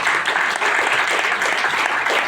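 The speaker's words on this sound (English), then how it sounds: "Can we please have a round of applause, please," A crowd at the official launch event for IRONMAN 70.3 Colombo claps steadily, a dense, even wash of applause from start to finish with no voices standing out.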